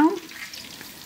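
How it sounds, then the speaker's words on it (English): Butter sizzles in a pan on the stove as it starts to brown, a steady soft crackling hiss heard close, with a brief clatter at the start. "it is sizzling, but it should start to go brown any minute now"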